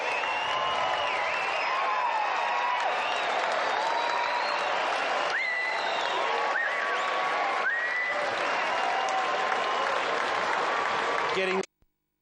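A large horse racing crowd cheers and applauds continuously, loud and sustained, with whistles and shouts rising above the clapping before it cuts off abruptly.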